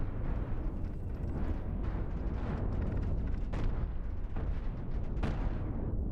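Space ships battle in Cosmoteer as cannon fire and explosions pound continuously, a dense roaring barrage punctuated by several sharp booming impacts, loud and close.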